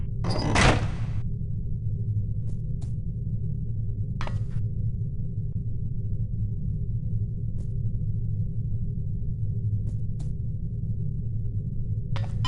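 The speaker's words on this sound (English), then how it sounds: "All right, now open the door to the next area." A door opens in No One Lives Forever with a single short burst near the start, followed by a few faint clicks and ticks over a constant low ambient hum.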